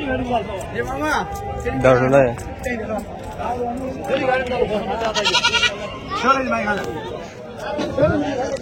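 At a busy sheep and goat market in Angallu, goats bleat repeatedly, some close and loud and others farther off, amid a crowd's constant chatter and nearby voices.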